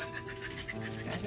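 A dog pants rapidly and steadily close by, a continuous run of quick breathy huffs with light background noise.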